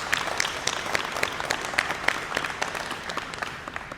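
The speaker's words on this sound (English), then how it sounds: "Let's give our national partners a round of applause" An audience at a celebration of a new international airport in Mobile applauds steadily, with many hands clapping in a dense, even wash that tapers off slightly at the end.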